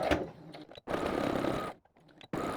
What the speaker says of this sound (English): now we're going to go to the sewing machine to sew that line we just made to make our darts